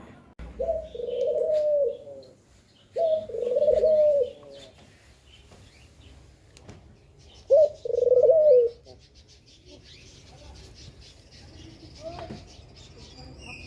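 Pet dove cooing in short repeated bursts, three main calls of a second or so each, close and moderately loud over a quiet room with faint background noise; no clear cockatiel call stands out.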